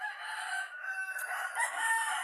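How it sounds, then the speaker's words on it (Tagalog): A rooster crows close by in one long, strained call lasting a couple of seconds, heard on its own without talk, amid a group of farm chickens. "Yung mga manok natin mga guys."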